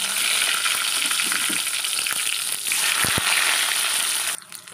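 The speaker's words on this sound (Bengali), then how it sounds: "কড়াইতে তেল গরম হয়ে গেছে, এবার বেগুনগুলো ভেজে নেব আমি।" Salted, turmeric-coated eggplant pieces fry in hot oil in a wok with a loud, continuous close-up sizzle and crackle, occasional sharper pops, then an abrupt drop near the end.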